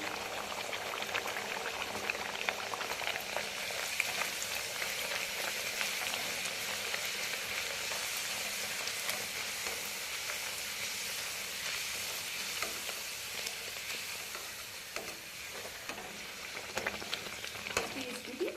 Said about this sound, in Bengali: এভাবে আমি সমস্ত কচুরিগুলো ভেজে নেব